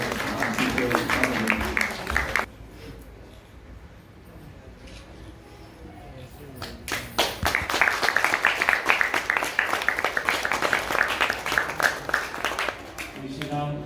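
An audience at a stage event for a Ganga Avataran play and folk festival claps to welcome committee members, dense sustained applause that pauses briefly and then returns louder, with a voice talking over it.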